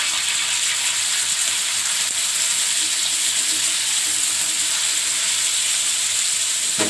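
Goat liver kaleji frying and being stirred on a hot tawa gives off a loud, steady, close sizzle and hiss that continues without a break.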